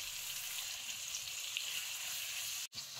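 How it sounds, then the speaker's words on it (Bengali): Onions fry in hot oil with a loud, steady sizzle and crackle close up, briefly cut off near the end before resuming. "এই পেঁয়াজটাকে আমি জাস্ট সিদ্ধ করে নিব, সিদ্ধ হয় এমন ভাবেই ভেজে নিব"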